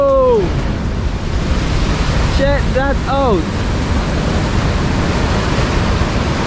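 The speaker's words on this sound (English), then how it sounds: "These are massive waves" Massive ocean waves crash onto rocks along the Tobago coast, heard as a loud, continuous wash of surf roaring with wind buffeting the microphone, while a voice briefly speaks over it.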